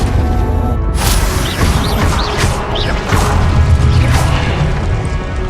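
Confringo fire spell blasts in the Hogwarts Legacy video game, loud dense explosive crashes and booms over a continuous roaring game soundscape with whooshing effects.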